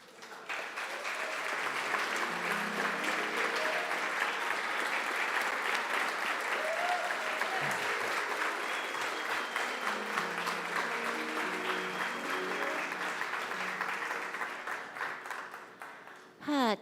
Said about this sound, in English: I don't really like applause.